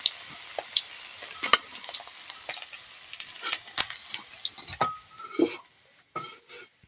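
Small local fish sizzle and spit in hot oil in a pan, fried without turmeric. A steady bright crackle runs throughout, with utensil scrapes and light metal clinks mixed in; no one speaks.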